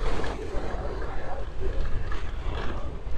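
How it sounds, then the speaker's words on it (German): Strong wind in a street of Girona, Spain gusts hard against the microphone as a loud, uneven rumbling roar that pulses throughout. "You see we have a lot of wind"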